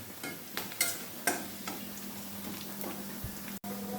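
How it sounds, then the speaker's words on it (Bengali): Onion and garlic fry quietly in a pan with a soft, steady sizzle, broken by a few sharp clicks of a spoon stirring against the pan and a low hum underneath. "পেঁয়াজ রসুন ভাজা হয়ে গেছে, সুন্দর একটা ফ্লেভার"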